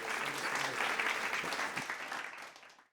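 Audience applause at an awards ceremony honouring women achievers in Odisha: a steady wash of many hands clapping across the clip, fairly even in loudness, before fading out at the very end.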